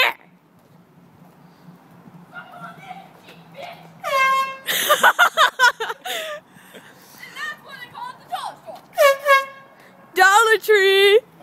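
Loud blasts of a car-mounted air horn honk in bursts, several long, bright tones sounding near the microphone, with excited voices in between.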